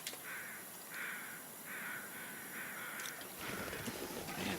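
Crows caw around wolves in a foggy outdoor video game scene, a string of rough, evenly spaced calls at moderate distance over faint ambient noise, without talk.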